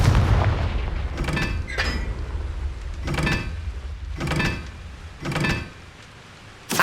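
Spell explosions and magic effects from the video game Hogwarts Legacy, a series of about five sharp bursts spaced roughly a second apart, each with a crackling, sweeping tail, with no voices.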